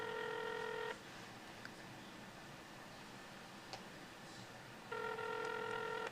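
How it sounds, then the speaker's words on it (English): Telephone ringback at 3 a.m. with an unanswered call: two bursts of the repeating electronic ring tone at the start and end, separated by a long quiet gap with a faint click. "someone has their phone on at 3 a.m. but doesn't answer it"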